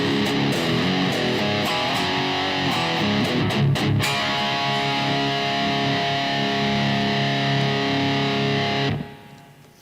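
An electric guitar played through a boost pedal rings out with a thick, slightly driven tone, chords sustaining before stopping abruptly.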